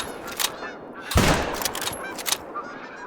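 A single sharp rifle shot cracks out in theHunter: Call of the Wild during a European trophy hunt aimed at an animal about 100 meters away. It is loud and close, and a rumbling tail and faint ambient sounds follow it.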